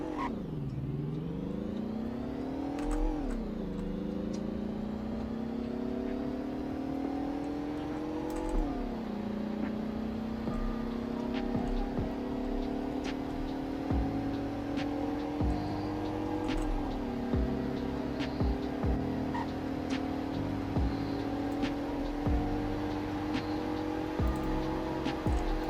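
A car engine in a Roblox Greenville speed test revs up through several gear changes, its whine climbing, dropping and climbing again in a steady, close drone with faint clicks underneath.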